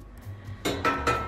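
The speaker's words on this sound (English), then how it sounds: "it came with these pans. So you can put the pans in." Metal cooking pans that came with a modern Japanese countryside home are set into a kitchen cabinet, giving a few clear clinks and knocks of metal close by after a quiet start.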